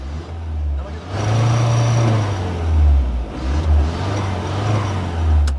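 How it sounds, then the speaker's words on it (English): A lifted Toyota Innova monster truck's diesel engine revs in a few raw, loud surges with a deep rumble rising and falling close by, a faint turbo whistle in the background. "it sounds like a proper monster truck, a proper diesel monster truck"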